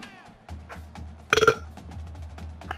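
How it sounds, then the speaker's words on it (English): A single loud, rasping belch rolls out in a quick burst over the steady background of an NCAA Football 14 game. "Nice burp. Burp alert."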